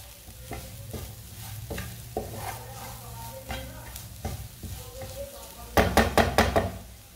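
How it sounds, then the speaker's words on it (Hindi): Spices for samosa filling stirred and frying in a pan, a soft continuous sizzle under rhythmic spoon scrapes and knocks against the pan, ending with a quick run of louder taps, close by. "मसालों को पकाने से मसालों का टेस्ट बहुत अच्छा आता है।"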